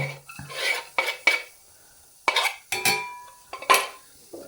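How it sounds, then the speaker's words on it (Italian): Shallots dropped into a small risotto pan: a series of sharp metallic clinks and scrapes of utensil against pot, in short separate bursts, close and fairly loud with quiet gaps between. "Pentolino da risotto, metto giù lo scalogno"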